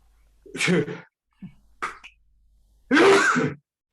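A sharp sneeze bursts out, then a couple of faint breaths and a second, louder sneeze, close by in an otherwise quiet room.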